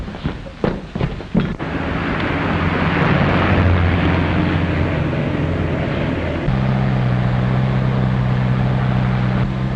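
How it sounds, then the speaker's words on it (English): A small yellow touring car drives along a highway in a 1936 film, its engine a loud, steady drone that holds throughout, shifting to a lower, even hum partway through after a few sharp knocks at the start. "Small yellow touring car driving north on Highway 61"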